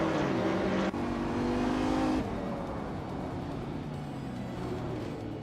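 Racing cars in a race, a loud engine drone that drops abruptly as one car shifts, then a lower steady roar of several cars running close together.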